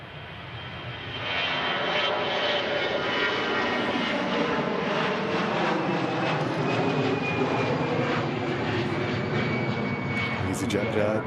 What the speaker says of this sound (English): EasyJet just departing out to Paris.